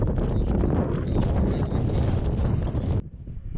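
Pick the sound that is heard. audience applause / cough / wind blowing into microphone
wind blowing into microphone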